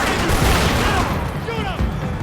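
Rapid gunfire erupts in Max Payne 3, a dense burst of shots and echoing impacts under hurried shouting voices, thinning out toward the end.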